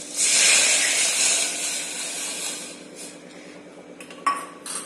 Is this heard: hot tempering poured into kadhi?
yes